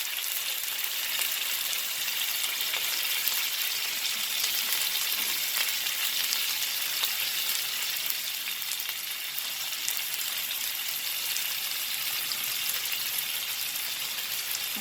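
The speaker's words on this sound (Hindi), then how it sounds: "अभी मैं इसके अंदर ये फिश डाल दूँगी।" Fish pieces frying in a hot pan for a fish curry, with a steady, even hiss of sizzling oil that holds close and constant throughout, with no voices.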